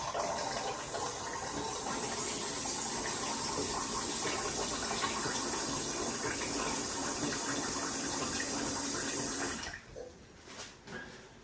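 Lukewarm water pours steadily from a tap to top a container up to one litre, a continuous rushing fill lasting about ten seconds before stopping, followed by a few faint drips and small knocks.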